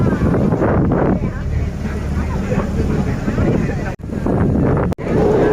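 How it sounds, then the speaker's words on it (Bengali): A local boat crosses the sea near Nha Trang, its engine droning steadily beneath heavy wind buffeting the microphone, loud and close, with a couple of brief dropouts and a voice talking briefly. "এবারে বোটে করে সমুদ্রের মধ্যে দিয়ে যাচ্ছি"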